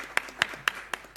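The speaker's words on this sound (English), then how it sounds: "I kindly ask you to give a round of applause to our speakers." Audience applause for speakers at a conference in Riga, heard as five sharp, evenly spaced claps in a short, fairly quiet burst rather than a full sustained ovation.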